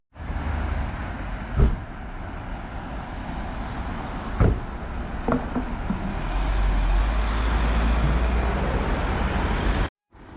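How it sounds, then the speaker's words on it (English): The number 3 bus to Hortonville idles at a stop in Balderton traffic. A continuous low engine rumble is punctuated by a few sharp knocks and clatters, the drone swells louder toward the end, and it cuts off abruptly. "this bus turned up, the number 3 to Hortonville"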